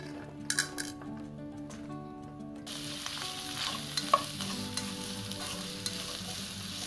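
Onions roast in rendered chicken fat for Malabar-style stuffed chicken, sizzling steadily up close while a utensil stirs and clinks against the pan, with a faint tonal background.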